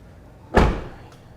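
The door of a 2017 Chevy Malibu gives a single short thud near the middle, close and fairly loud, then the sound fades into quiet.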